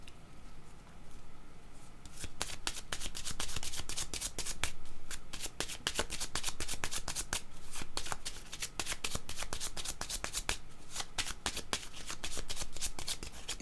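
A deck of tarot cards is shuffled close up, with rapid crisp riffling clicks and flutters repeating steadily throughout, no voice over it.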